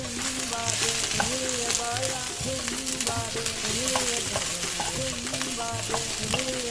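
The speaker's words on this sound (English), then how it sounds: "So just pop it in like that, stir it in and make sure that it's coated by all the lovely aromatics" Tomatoes and a curry pack are stirred into onions frying in a pan for a vegan Sri Lankan curry. A continuous crackling sizzle runs throughout, with a spatula scraping in a steady rhythm up close.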